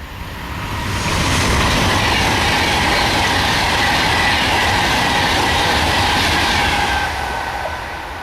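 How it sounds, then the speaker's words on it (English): A train passes the gates on the West Coast Main Line, a loud, sustained rush of wheels and rail noise that swells and holds for several seconds before easing off. "as I wait for a train to pass near the West Coast Main Line at these gates"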